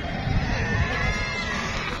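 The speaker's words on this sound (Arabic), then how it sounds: "سوق الغنم النهارده" Sheep and goats bleating at a busy livestock market, a dense continuous crowd of animal calls and murmur with no single voice standing out, loud and close throughout.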